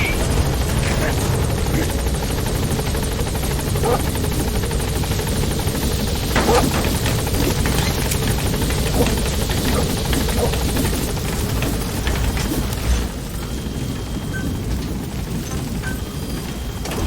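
In Metal Gear Solid V, an extraction helicopter thumps and roars continuously as it arrives at the landing zone, its rotor wash loud and close, easing slightly near the end.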